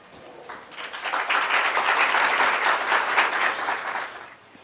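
Applause from a lecture audience swells up quickly into a full, steady wash of many hands clapping, holds for a few seconds, then fades away to quiet.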